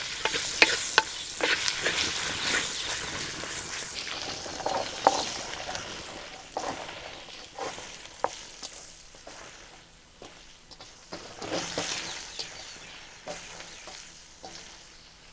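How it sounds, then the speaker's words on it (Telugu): Chukka kura greens and sesame powder are stirred in a hot pan over a continuous sizzle, with scraping strokes and occasional sharp knocks from a utensil. "నువ్వుల పొడి వెంటనే చుక్కకూర కూడా వేసేసుకుని బాగా కలుపుకుందాం"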